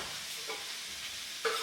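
A soft, steady sizzle of mushrooms cooking in a pan, fairly faint, with a short clatter right at the end.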